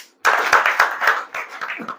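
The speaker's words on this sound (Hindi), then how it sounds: "एक बार ताली होना चाहिए।" Audience applause at a marketing seminar workshop: a burst of many hands clapping starts abruptly after a short silence and continues steadily, fairly loud and close, with uneven swells throughout.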